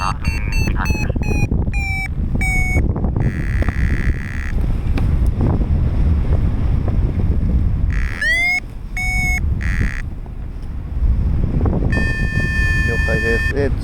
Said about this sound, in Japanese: テイクオフまた結構な風が吹いてきて、ちょっとまだって感じですね。